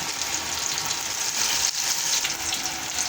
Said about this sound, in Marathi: शिमला मिरची ना सगळे व्यवस्थित तळल्या गेलेल्या आहे अशा पद्धतीनं तळून द्यायची